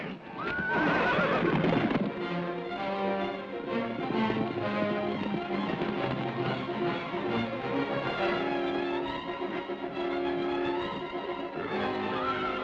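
Horses in a 1947 Western film neighing loudly, with a shrill whinny early on and hooves clip-clopping beneath, set against a dense orchestral score throughout.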